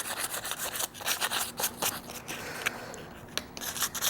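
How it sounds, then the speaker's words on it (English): A sheet metal burger flipper handle is roughed up by hand sanding, a close, steady rubbing and scraping in quick back-and-forth strokes, with a couple of sharp clicks and no talking. "So we'll be right back after I finish sanding all of this"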